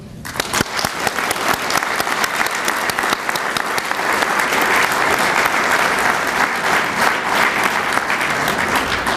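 Loud, dense applause from a banquet audience at a Citizen of the Year awards evening, many hands clapping steadily and evenly for the whole stretch.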